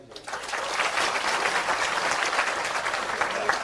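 Applause for a music ensemble fills the space at a cultural gathering, a steady dense wash of many hands clapping that rises quickly and holds loud throughout.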